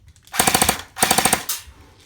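An Umarex H&K UMP Competition Series airsoft AEG rifle fires on full auto indoors in two quick bursts of rapid, evenly spaced mechanical cracks. A shorter single pop follows them.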